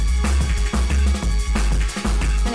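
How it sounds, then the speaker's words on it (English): A dance record's build-up spins on a DJ turntable, a loud steady thumping kick pattern with layered synth tones repeating in a tight rhythm, no voices over it. "So this is what the build sounds like."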